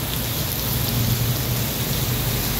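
Sudden heavy rain pouring down, a dense, loud, steady roar of drops hitting surfaces without a break.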